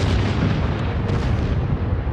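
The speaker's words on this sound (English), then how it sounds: "Giant fireballs shot out toward the land of the Moklaks, exploding in deafening booms 5 times in rapid succession." Explosions from giant fireballs boom repeatedly in rapid succession, a loud, continuous rumbling barrage of deep blasts with no talking.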